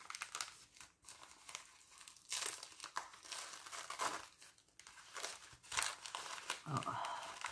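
Close, quiet crinkling and tearing of a thin paper napkin in short bursts, with adhesive tape pulling at it.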